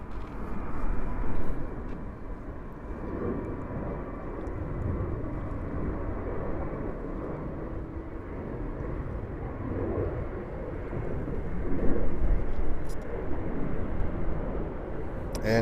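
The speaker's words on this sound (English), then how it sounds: "Delta 330 from Tel Aviv, going to 22 left, and American 777 from Heathrow on 22 right." Delta Airbus A330 from Tel Aviv landing at JFK airport on runway 22 left: a steady, distant jet roar and rumble that holds throughout and swells toward the end.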